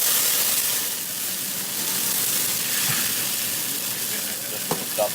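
Garlic frying in a pan gives a steady soft sizzle and hiss, fairly quiet, with a couple of faint clinks near the end.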